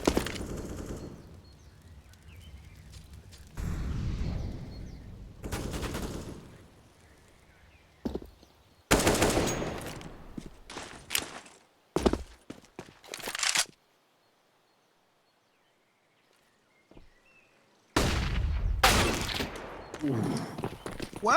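Gunfire from a Counter-Strike match on the Inferno map comes in several sharp bursts of rapid shots, separated by quieter stretches of footsteps and a stretch of near silence, with a final burst at the end.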